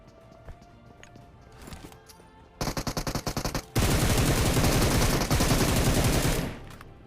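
Automatic gunfire in the battle-royale video game PUBG, a rapid burst of about a dozen evenly spaced shots followed by a dense, loud sustained volley lasting several seconds, with fainter game sounds before it.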